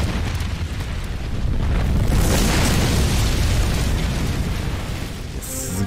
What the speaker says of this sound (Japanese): いきなり法廷爆発するんだ